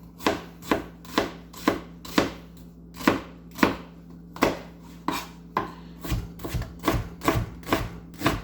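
A kitchen knife chops onions on a cutting board in a high school culinary class, about seventeen crisp, evenly spaced thuds, close and clear, with no voices.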